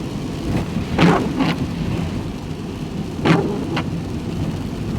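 Rain falling in Scotland, a steady hiss of showers throughout with two louder rumbling swells, like distant thunder, about two seconds apart; no voices.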